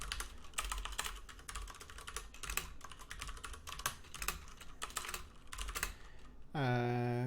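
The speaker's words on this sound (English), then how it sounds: "I'm typing for a while without looking for things" Rapid typing on a computer keyboard, a dense, uneven clatter of key presses running for several seconds at close range, ending as a steady tonal hum takes over.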